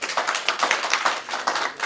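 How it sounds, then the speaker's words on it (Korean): Rhythmic clapping from an audience at a talk show event on single-person households, a short burst of fairly close, evenly paced claps with no talk. "큰 박수로 부탁드립니다."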